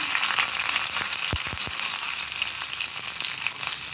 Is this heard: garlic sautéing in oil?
yes